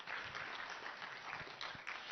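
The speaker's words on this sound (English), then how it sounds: "Clap for him." Audience applause at a party gathering, steady dense clapping filling the whole moment, fairly loud and continuous.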